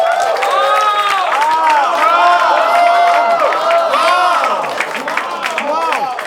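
Studio audience at a game show breaks into sustained applause and cheering for a winning contestant, a dense wash of clapping with voices rising through it for several seconds.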